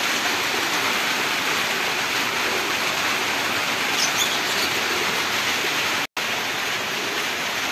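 Steady rain falls throughout, a dense even hiss without pauses, loud and close, broken by a single split-second dropout near the end.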